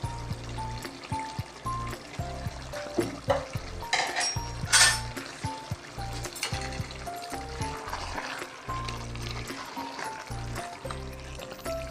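Chicken with roasted ground cumin and coriander sizzles and fries in a pan while a spoon stirs and scrapes repeatedly, clattering against the metal in an uneven rhythm, loud and close.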